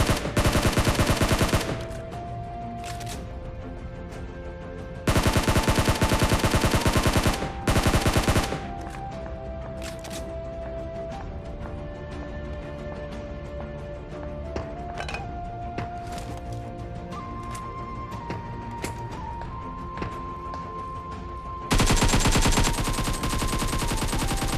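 Gunfire in PUBG Mobile: loud bursts of shots at the start, around the middle and at the end, with scattered single cracks and steady game ambience between them.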